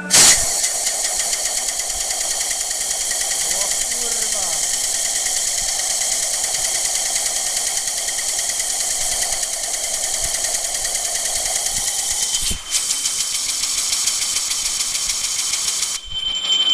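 A compressor air gun drives a pneumatic ball vibrator, a loud steady hiss and whir that holds for about twelve seconds, shifts briefly, then carries on to the end.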